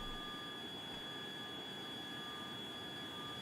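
A Harrier jet in Tiny Combat Arena roars through a short takeoff, its steady, loud engine noise holding alone without pause, with a faint high whine running over the top.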